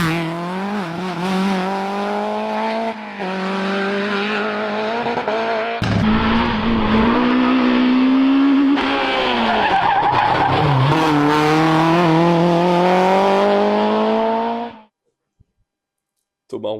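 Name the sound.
rally car driving and skidding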